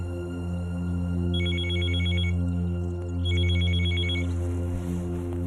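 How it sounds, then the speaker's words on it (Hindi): A telephone rings in a domestic drama scene, repeating bursts of electronic bell trills over a steady low hum, fairly loud and with no talk. "पता नहीं किसका फोन है।"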